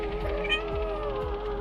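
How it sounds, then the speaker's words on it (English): A cat meows a few times close by, with short tonal calls over a low background hum and faint room noise. "It meows."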